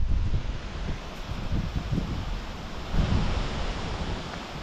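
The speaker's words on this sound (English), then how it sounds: "Check out that wind." Very strong wind at a rural homestead, roaring steadily with heavy buffeting gusts against the microphone throughout, loud and continuous with no talk.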